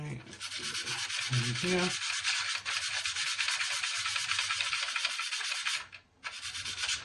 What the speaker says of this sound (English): I suppose you could call this quite extreme sanding and filling